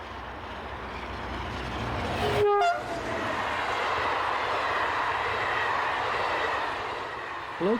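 An SNCF class 7300 electric locomotive hauls the overnight Paris-Irun train past with a steady rolling rumble, and a brief horn toot cuts through midway.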